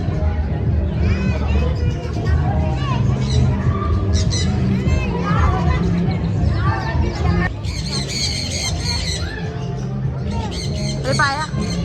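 Pigeons call and squawk among a crowd of people on an outing, with ongoing talk and children's voices mixed in around the repeated bird calls.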